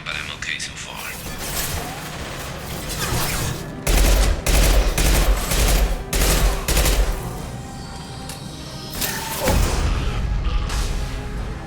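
Heavy Mass Effect 2 gunfire comes in loud, dense volleys of automatic shots that start and stop repeatedly over about twelve seconds, mixed with combat effects and voices.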